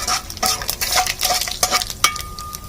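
Cashews and cumin roasting in a pan over a wood-fired stove: brisk, irregular scraping and metallic clinks from a stirring spoon over a light sizzle, close and fairly loud, with no talking.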